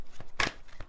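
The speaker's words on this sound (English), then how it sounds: "so now I'm just going to shuffle this card." Tarot cards being shuffled by hand, a few soft papery riffles with one brief louder burst in the middle, quiet and close, with no voice.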